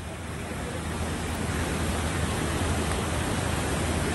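Floodwater rushes across a road during heavy monsoon rain in Maharashtra, a dense, unbroken roaring wash of water close by, with no voices.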